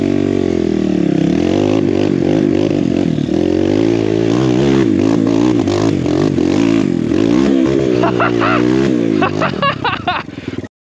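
A BBR Kawasaki KLX170RF dirt bike revs loudly and close by. The engine note rises and falls repeatedly with a rough, buzzy tone, then cuts off sharply at the end.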